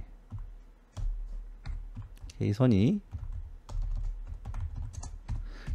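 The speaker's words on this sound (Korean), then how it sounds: "타자가 좀 서투네요." Typing on a computer keyboard during a Korean stock-trading lecture, a steady run of light clicks throughout with a brief burst of speech in the middle.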